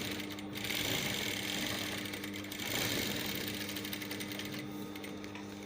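A sewing machine runs steadily, stitching a patch pocket onto Ankara fabric, with a continuous close rattling hum that briefly slows and picks up again.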